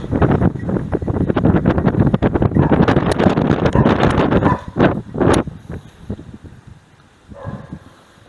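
Strong, gusty wind by a lake buffets the microphone in loud, roaring bursts that ease off toward the end, outdoors with no voices.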